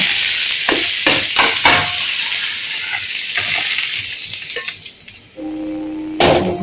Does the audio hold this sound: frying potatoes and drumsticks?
yes